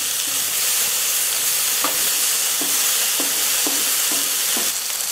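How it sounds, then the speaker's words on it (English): Potatoes searing in a dry pan without oil or butter, a loud, constant sizzling hiss with a few faint clicks and taps at intervals, no voices. "You want to sear the potatoes, but you don't want to burn them too much initially."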